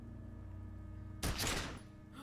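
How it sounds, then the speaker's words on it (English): A single gunshot in the video game Disco Elysium, a sudden loud crack with a short rumbling tail that cuts through a low steady musical drone. "I shot the corpse."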